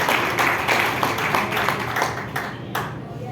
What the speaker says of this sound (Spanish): vamos a dar un aplauso al Señor que se lo merece